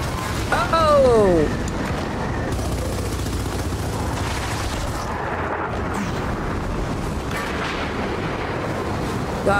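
Rapid gunfire and explosive blasts from the video game Gears of War 4, a dense, continuous rattle of weapons fire running throughout with a few brief shouts from players.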